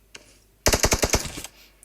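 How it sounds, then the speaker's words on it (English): Rapid burst of automatic gunfire in the battle royale game PUBG during a competitive duo scrim, about seven sharp shots in quick rhythm, close and loud, after a lone single shot. "And FE Tao is taken down by Avery, with Chels firing back."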